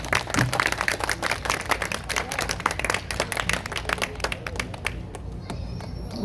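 A crowd at a mayoral candidate's public rally in India claps steadily, dense applause from many hands close by that thins and fades out toward the end.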